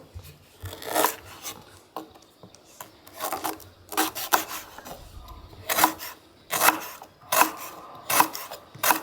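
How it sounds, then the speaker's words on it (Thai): A knife taps and scrapes through lemongrass stalks on a board in uneven bursts of coarse chopping, fairly close, with no talking. "แล้วเราเราก็จะหั่นตะไคร้ใส่นะ"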